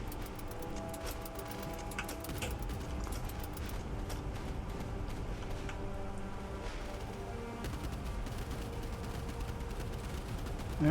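Torpedo hits and explosions in the naval combat video game Boat Crew, a dense continuous rumble of blasts with rapid crackling bursts and gunfire-like pops throughout, loud and unbroken for several seconds.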